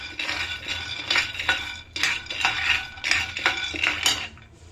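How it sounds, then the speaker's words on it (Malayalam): Peanuts are dry-roasted in a heated pan and stirred with a metal spoon, a steady run of close scraping and clinking strokes that rattle against the pan in repeated bursts with no talking. "ഇത് നമുക്ക് കപ്പലണ്ടി വറുത്തെടുക്കാം."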